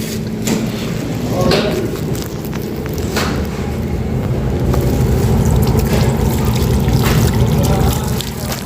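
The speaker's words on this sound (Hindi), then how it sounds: "खाना खा लिया, हाथ धो लेते हैं" Tap water running steadily while hands are washed after a meal at a roadside stop in Saudi Arabia, a continuous trickling splash under a busy background murmur of voices and activity.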